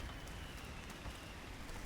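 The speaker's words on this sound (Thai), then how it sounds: "ฝนตกตามเราทุกที่เลย" Rain falls in the sandbox game Teardown during a night storm, an even, faint, hissing patter that fills the whole moment without a break.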